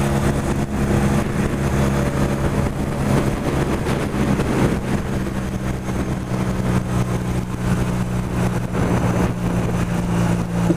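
A Honda CB450 Custom parallel-twin motorcycle engine runs smoothly and evenly, a steady low rumble held at constant loudness for the whole stretch with no talking.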